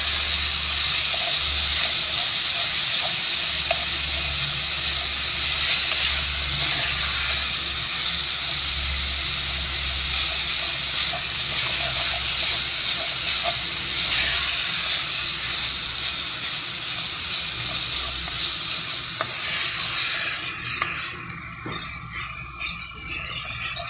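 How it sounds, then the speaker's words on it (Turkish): Tomato and pepper paste fries in a pot with a loud, continuous hissing sizzle that holds steady for a long stretch, then thins and breaks into softer crackles near the end. "Böylece salçamla da güzel bir kavuracağım."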